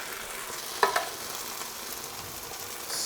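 Softened vegetables sizzle steadily in a pan as a 29-ounce can of no-salt tomato sauce is added for a chickpea shakshuka, a close, even hiss broken by a brief clink near the start.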